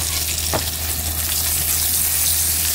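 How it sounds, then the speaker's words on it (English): Salmon burgers and garlic sauté in a hot pan, giving a steady, close, continuous sizzle throughout with a single brief louder crackle near the start and no talk. "I threw a little garlic in there that it could saute and maybe catch some flavor"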